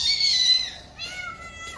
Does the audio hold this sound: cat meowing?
yes